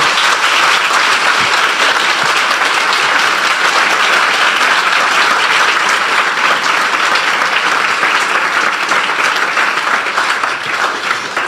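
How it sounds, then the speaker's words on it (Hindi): A church congregation claps together in praise of the Lord during a Hindi sermon, loud, dense and sustained with no pause or talk over it. "आइए प्रभु के लिए एक अच्छी ताली बजाएंगे हम मिलकर"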